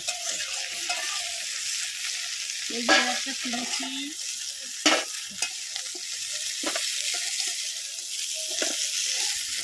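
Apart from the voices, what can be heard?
crab pieces frying in pan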